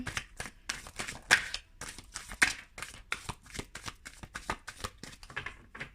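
A deck of tarot cards is shuffled during a monthly astrological reading, giving a steady run of quick papery riffles and flicks, close and moderately loud, with no talking.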